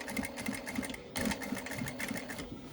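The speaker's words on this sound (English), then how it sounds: "And you just need to basically sew down there." A sewing machine stitching down a dress facing near the zip, its needle running in a fast, even rhythm with a brief pause partway through, close and fairly quiet.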